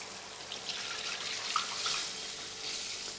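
Water poured into a pot while cooking lamb with prunes, a steady soft splashing and trickling flow with light sizzle, close and moderately quiet throughout, no talk.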